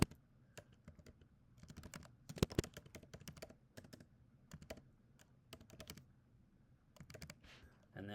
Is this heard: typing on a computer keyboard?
yes